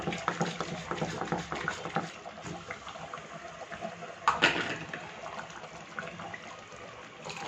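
Water pours into a pan of radish masala kuzhambu curry, a close, soft splashing and trickling with a brief louder splash midway, then gentle bubbling.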